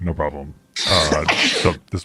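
A single sharp sneeze bursts out between stretches of talk at a tabletop Dungeons & Dragons 5e session, loud and close.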